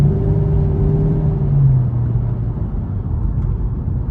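A 2006 Shelby GT-H idles with a low, steady, throaty rumble, close and continuous with a faint rise in pitch midway, heard alone in a quiet evening street.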